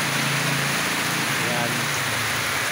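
Steady rain hisses across the whole stretch, a dense, even patter with a faint low rumble beneath it.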